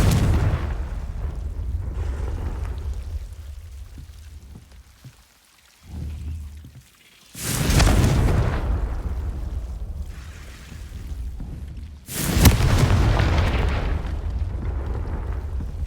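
Explosions from the Confringo spell in a video game hit as two heavy booming blasts with rumbling tails over a continuous low roar, loud and close.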